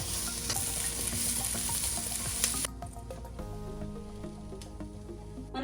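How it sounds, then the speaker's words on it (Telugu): Onion and capsicum fry hard over a high flame, a loud dense sizzle with stirring clatter that drops abruptly to a quieter simmering crackle partway through. "ఆనియన్ అండ్ క్యాప్సికమ్ కూడా వేసి పెద్ద మంట మీద ఫ్రై చేసుకోవాలండి"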